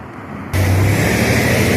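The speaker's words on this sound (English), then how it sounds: "sorry about the big truck, guys" A big truck rumbles past loudly on Central Avenue, a busy road in Albany, New York, its low engine drone starting abruptly and holding steady and close.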